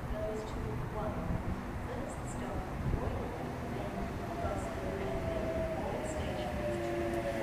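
A Sydney Trains Wyong service pulls into platform 3 at Berowra station, a steady low rumble with faint brake squeals and high hisses running throughout, with a voice speaking over it.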